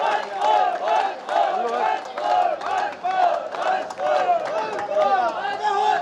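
An audience at a patriotic speech event in India cheers loudly and continuously, with many voices shouting together in rhythmic, surging waves.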